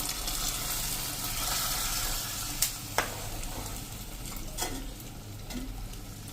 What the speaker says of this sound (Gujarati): અને મિત્રો એને આપણે આ રીતે હવે ગેસ ઉપર જ મિક્સ કરી લેશું.